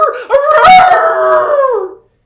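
A single sustained wolf howl as a sound effect, rising and then slowly sliding down before cutting off, loud and close.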